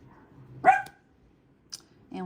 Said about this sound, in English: Sorry. Dogs.